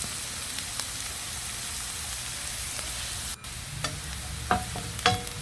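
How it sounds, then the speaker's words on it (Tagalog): A spoon scrapes through cubed carrots with onions in a sizzling pan, a steady close fry with a few sharp knocks of the utensil against the pan. "haluin lang po natin mabuti"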